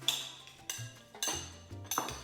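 A spoon clinks against a bowl while seasoned ceviche of raw fish and prawns is stirred, giving four spaced, close scraping taps, each with a bright ring, and no voices.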